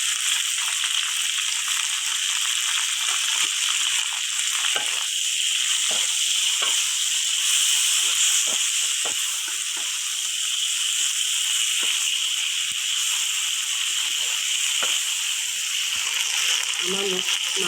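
Fish head and spices fry in a pan for Bengali rohu-head mashkalai dal, a steady close sizzle with scattered stirring clinks and scrapes throughout.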